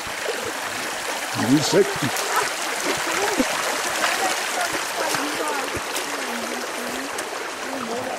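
People wade through a river at a survival camp competition, their steps sloshing and splashing in the water while voices talk over the sound.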